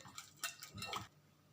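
A spoon clinks and scrapes against a pot while banana, oil, salt and jaggery are mixed together, a few quiet, close metallic taps and stirring scrapes in short bursts.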